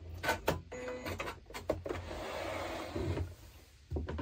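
Sewing machine backstitching on a Christmas door-stop project, a few short rattling stitch bursts broken by pauses, then a steadier run of mechanical stitching, close and moderately loud.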